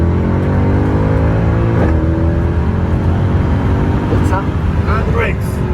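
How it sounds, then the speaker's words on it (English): A Mercedes C63 AMG in Sports Plus mode downshifts, its engine note climbing and dropping in loud, close revs, then accelerates steadily, with a strong rising roar that fills the cabin. "Let's very gently put it in Sports Plus. Give it a couple of downshifts. And very gently accelerate to the speed limit."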